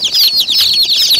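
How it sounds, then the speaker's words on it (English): Rhode Island Blue chicks in a farm brooder cheep in rapid, high, overlapping peeps along with brief wing flutters, close and loud with no talking. "the little blue chicks are the Rhode Island Blues"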